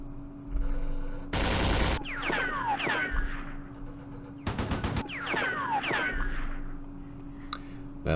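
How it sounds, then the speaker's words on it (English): Two sharp bursts of machine gun fire in the war strategy game Campaign Series Middle East, each followed by whistling ricochets and a fading rattle, loud and close with a steady hum underneath. "Use the machine gun."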